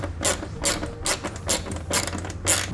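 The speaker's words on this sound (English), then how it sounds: "I'm going to snug up both of the nuts." A hand ratchet snugs up the nuts on an Air Lift LoadLifter 5000 Ultimate air helper spring fitting, giving bursts of sharp clicking in a regular back-and-forth rhythm, close and clear.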